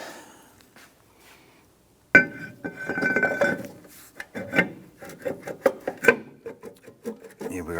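Rear brake shoes on a 2011-2021 Jeep Grand Cherokee are tapped together, giving close metallic clinks and scraping rattles in an irregular burst after a quiet start.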